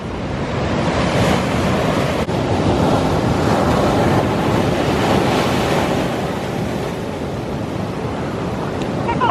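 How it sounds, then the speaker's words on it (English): Ocean waves crashing onto a beach at a coastal tower as the tide comes in, a continuous loud roar of surf with rolling surges and wind buffeting the microphone, no voices. "The waves are starting to crash in."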